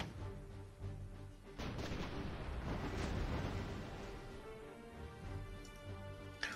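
Deep booming blasts of cannon fire in the video game 1942 Pacific Front, with heavy rumbling explosions, loud and sustained, echoing over a steady low background hum.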